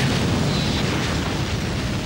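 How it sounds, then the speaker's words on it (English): An explosion sound effect from an audio drama is a loud, sustained, rumbling roar that continues at full strength for about two seconds, with no speech. "The explosion was colossal, and Omega was seemingly obliterated."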